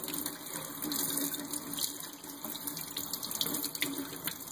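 Tap water runs steadily into a sink while a rainbow trout is rinsed under it, a constant close gushing hiss with no talking.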